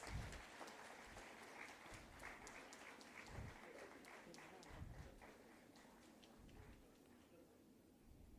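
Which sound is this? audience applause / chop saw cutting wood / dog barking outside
audience applause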